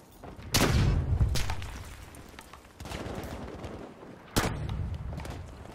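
A tank fires in the Battlefield V video game, sending two heavy booms several seconds apart. Each blast is followed by rumbling gunfire and battle noise, with no talk.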